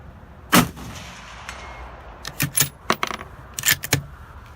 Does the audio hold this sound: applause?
no